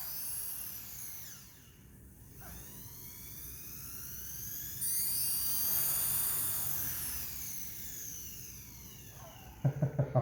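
An XK K130 RC helicopter motor spins up slowly, its thin electric whine rising gradually in pitch, close and fairly quiet, ending with a few sharp knocks.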